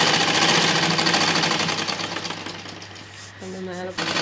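A sewing machine runs continuously while stitching elastic onto a pair of panties, a close, steady mechanical hum with faint speech-like tones near the end.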